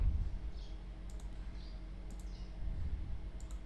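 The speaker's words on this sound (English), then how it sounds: "So just double click it to extract the zip file." Computer mouse clicks, several light paired taps spaced about a second apart, faint and close over a low steady room hum.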